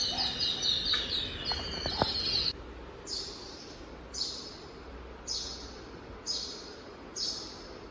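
Noisy bird chirps and squabbling calls close by at first, then a series of evenly spaced high chirps repeating about once a second.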